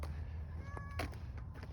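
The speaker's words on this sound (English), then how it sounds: "This is another town cat." A single short meow from a town cat, fairly faint over a low outdoor hum, heard alone with no talking.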